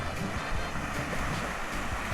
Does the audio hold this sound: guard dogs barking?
no